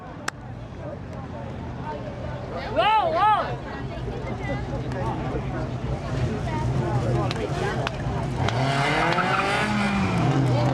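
Late model race cars, a Chevy and a Ford, running side by side through a corner at Seekonk Speedway, engines whining up and down with tire squeal, under an announcer's voice over the track noise.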